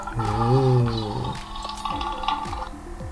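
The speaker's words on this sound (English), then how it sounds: "lion." A lion roars once, a deep, loud, swelling call lasting about a second, followed by quieter rumbling and faint mechanical ticking, with no voices.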